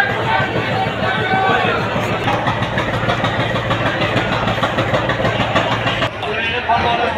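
A large old passenger launch ship, the Karnaphuli 13, has its engine running with a steady, close mechanical rumble and rhythmic thumping, and a voice speaks over it throughout.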